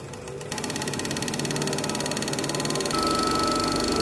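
A wood lathe spins up with a rhododendron root bowl blank at 1500 RPM, its motor rising to a steady, loud, buzzing hum with a faint rapid pulsing and a slight step up in pitch near the end.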